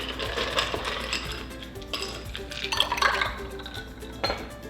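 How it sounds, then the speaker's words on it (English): Ice cubes clinking and tumbling into a glass of keto lemonade, a few scattered light chinks and rattles close by, fairly quiet with a soft liquid background. "And then we add some ice."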